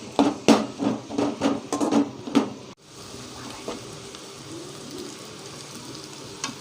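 Sautéing in a pan until browned for a spicy sardine curry. A run of sharp, rhythmic knocks and scrapes comes first, then a steady close sizzle without talk.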